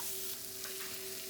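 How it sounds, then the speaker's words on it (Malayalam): Ginger-garlic paste with garam masala sautés in a pan, a dense, steady sizzle up close with a faint constant hum beneath it and no speech. "ഇനി അതും എല്ലാം കൂടി ചേർത്ത് നന്നാക്കി ഒന്ന് വഴറ്റി കൊടുക്കാം."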